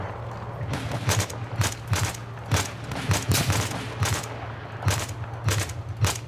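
Rapid bursts of gunfire in Battlefield 4, sharp repeated shots in irregular clusters over a steady low game hum, loud and close, no talking.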